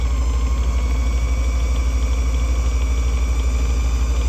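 A Singer Stylist 457 sewing machine motor runs fast on its drive belt, giving a steady, loud mechanical whir and hum with a constant low drone that holds even throughout, with no talking over it.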